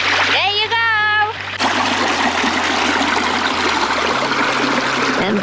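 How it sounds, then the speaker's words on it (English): A small brook flows in pouring rain outside a cottage in Britain, a steady loud wash of rushing water and rain, with a voice briefly heard near the start. "It's pouring rain, but I just need to show you the little stream."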